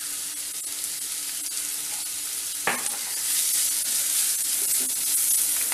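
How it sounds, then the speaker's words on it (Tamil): Chopped onions sautéing in a frying pan for a green gram masala dosa filling, a steady close sizzle with occasional stirring scrapes and a brief clatter partway through, no voices. "வெங்காயம் கொஞ்சம் நல்லா வதங்கட்டும்."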